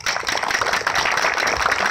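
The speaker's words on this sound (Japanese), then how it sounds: "改めて関係者の皆様に盛大な拍手をお願いいたします。" Sustained, dense applause from a crowd at the 40th Hokuto Cup horse racing award ceremony, a steady wash of many hands clapping at even volume for the whole stretch, with no talk over it.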